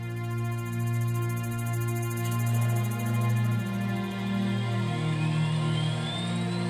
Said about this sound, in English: that sound you hear is the start of an SDL39